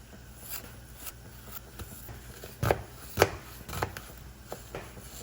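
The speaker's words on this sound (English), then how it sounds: "we're gonna take our knife and create little slices all the way down, long ways" A knife slicing an onion lengthwise on a cutting board, heard as a few soft, sparse taps and cuts against the board, quiet and close, with no talking.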